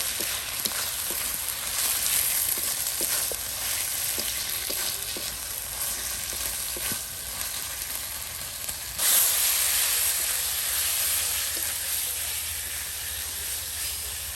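Fried onions are stirred together with cumin paste in a pan, a steady close sizzle with soft rhythmic scrapes of the spoon, and a brief louder hiss surging partway through.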